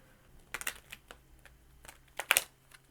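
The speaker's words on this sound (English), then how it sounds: "I should actually shuffle these." Tarot cards being shuffled by hand give a few quick, close, crisp riffling bursts, the loudest near the end, in an otherwise quiet room.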